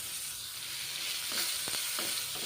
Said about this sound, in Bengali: হলুদ লবণ দিয়েছি তারপর ভেজে নিচ্ছি